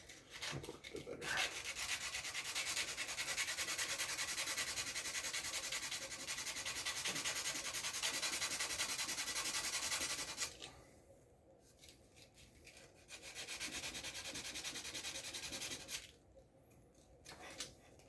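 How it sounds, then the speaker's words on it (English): Sandpaper rubbing on the tip of an arrow shaft to flatten its point, a steady close scratchy rasp running continuously for about ten seconds, then two shorter bursts separated by pauses. "And I'll keep sanding on that until it's a nice flat point."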